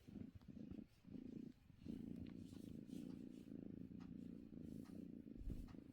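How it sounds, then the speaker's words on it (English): A cat purrs steadily and close by, a continuous low rumbling pulse that swells and dips with each breath. "She's purring."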